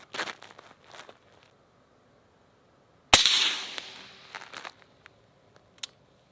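A single suppressed rifle shot cracks sharply nearby, its report fading over about a second, with faint handling clicks and rustles before and after.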